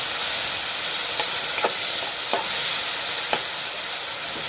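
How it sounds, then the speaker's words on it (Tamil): Chopped tomatoes frying in ghee in a pan, a steady loud hissing sizzle with a few spaced stirring clicks and scrapes, no voices. "தக்காளி கட் பண்ணி அதை வந்து இருக்க நெய்யோடு சேர்த்து நம்ம இதில் ஆட் பண்ணிக்கலாம்"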